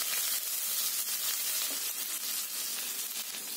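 Grated ginger and finely chopped green chillies sizzle in hot oil with cumin over a low flame, a steady soft frying hiss with small crackles, heard alone.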